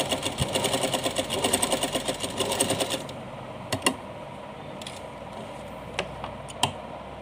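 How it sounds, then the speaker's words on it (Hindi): A sewing machine runs in a steady rapid stitching burst for about three seconds while sewing cloth for a small Laddu Gopal dress, then falls quiet apart from a few faint clicks and handling noises. "नीचे तक हम सिलाई लगाते हुए आएंगे।"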